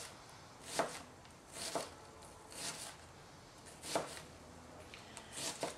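Knife slicing through tomatoes for tomato soup, five or six soft crisp cuts spaced about a second apart, close and quiet.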